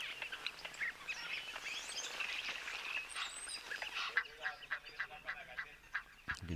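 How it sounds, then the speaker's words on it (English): Egyptian geese calling in the wild, repeated honking and harsh cackling calls at moderate distance, growing more frequent and rhythmic toward the end. "You can just hear the Egyptian geese"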